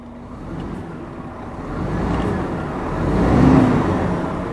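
A Scania G500 truck's big diesel engine turns over and settles into a steady rumbling idle, heavy low-end drone that swells slightly louder toward the end, close by with no talking.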